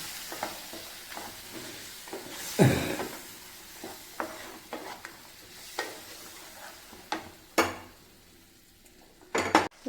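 A spoon stirs a pickle mixture with vinegar in a pot, giving soft scraping and clinking strokes at irregular intervals over a faint background, with a few sharper knocks against the pot and no talking.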